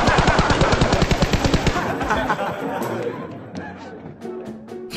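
A loud machine-gun burst in Peacekeeper Elite, a fast run of close rhythmic shots over the first two seconds, then scattered echoing single shots fading out.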